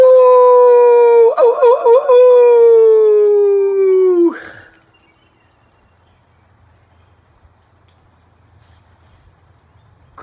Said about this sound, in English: A wolf pup starts to howl when it is only 8 weeks old.